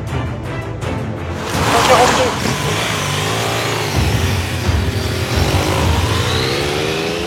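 Cars rush past on a busy two-lane French national road with a 110 km/h limit, engines swelling and fading as vehicles pass close by, with a voice talking over the traffic noise.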